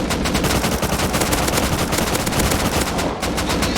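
Rapid sustained gunfire fills a military video game battle in tunnels, with dense automatic bursts that are loud and nearly continuous for several seconds.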